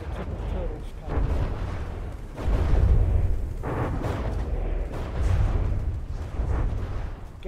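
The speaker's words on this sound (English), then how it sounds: "Missiles are out, missiles are away, and those are direct hits." Missiles striking a robot in a mech combat video game, a run of heavy booming impacts and rumbling blasts over several seconds, loud and dense, with voices talking over them.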